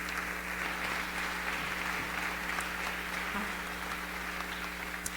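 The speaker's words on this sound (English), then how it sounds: "Keep a round of applause going, Dr. Pollock." Audience applause at a speaking event for an honoree walking up, a faint, steady wash of clapping heard from a distance over a low hum.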